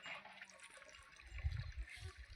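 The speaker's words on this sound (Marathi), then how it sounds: "आता पाणी भरतंय" Water pours into a container through a makeshift jugaad setup rigged to skip carrying buckets, a steady splashing trickle with low gurgling swells growing fuller toward the end.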